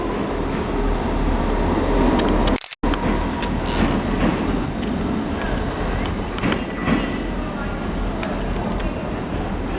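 A South Western Railway train departs Exeter St Davids station for London Waterloo, giving a continuous loud rumble of wheels and engine with faint clicks and squeals, heard up close on the platform.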